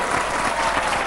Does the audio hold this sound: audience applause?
yes